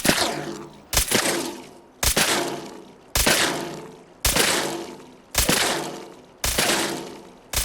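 Paint guns hidden behind walls fire out of a tripwire trap in Fallout 4, a series of seven sharp, loud bursts, each with a fast crack followed by a spattering decay, evenly spaced about a second apart with no talk.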